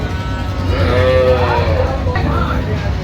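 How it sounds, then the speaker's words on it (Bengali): Cattle on a meat-cattle farm in Noakhali, Bangladesh: a single loud, drawn-out moo rises and falls close by over a constant low rumble of background noise. "আচ্ছা, মোহন ভাই একটু গরুগুলো দেখাবেন আমাদের"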